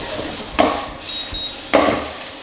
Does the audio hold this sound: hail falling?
no